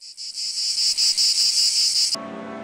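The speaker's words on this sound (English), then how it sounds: "while the song of the cicada fills the air." A cicada sings in a summer pasture at sunset, a loud, steady, high-pitched buzz with slight pulsing that runs unbroken for about two seconds and then cuts off abruptly.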